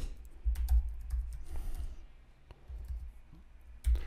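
Keys on a computer keyboard are typed in short bursts of close, crisp clicks separated by brief pauses, quiet and with no talk.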